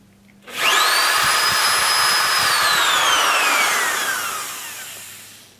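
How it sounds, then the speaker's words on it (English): A loud power drill whirs up quickly, holds a steady high whine for a few seconds, then winds down as the motor slows, drilling into an AR-15 .300 Blackout upper receiver part. "just go in there and drill till I see it more or less"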